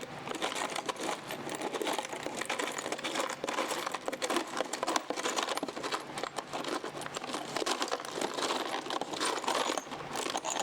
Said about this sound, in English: Let me just try to find two washers that will fit nicely in there.